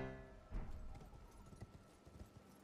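Horse hooves in the video game Elden Ring, a quick run of clip-clop hoofbeats close by, with a short neigh-like tone at the start, loud then settling into a lighter irregular trot with no talking.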